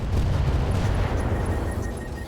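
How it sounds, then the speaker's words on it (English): LRM ammo exploding inside a mech in the RogueTech mod of the BattleTech video game, a loud, heavy rumbling boom that carries on through the whole moment and fades a little at the end. "That's an LRM ammo explosion and a ton of heat"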